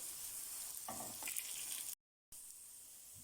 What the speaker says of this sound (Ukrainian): З іншої сторони теж жаримо до гарного золотистого кольору